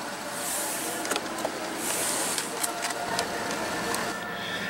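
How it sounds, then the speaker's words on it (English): Electric motor of a car's power folding exterior mirrors whirring steadily for several seconds, a close, moderate mechanical hum with a few faint clicks and no talking. "power exterior mirrors, power folding exterior mirrors too"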